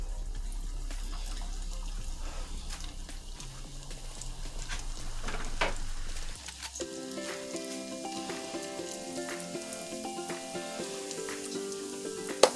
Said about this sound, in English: So here I'm gonna put in the Zeppelis, our fried dough.